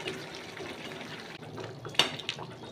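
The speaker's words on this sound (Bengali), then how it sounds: "এবার আমি দিয়ে দেব গরম জল।" Hot water poured into a pot of mutton kosha curry cooked with papaya: a gentle, continuous liquid pour and burble, followed by a sharper splash and a few brief clinks near the end.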